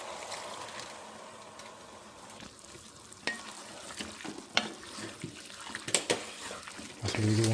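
Half a litre of water poured into a simmering turkey keema curry, a soft continuous pouring and bubbling wash with a few sharp clinks of utensils against the pot, close by and moderately quiet.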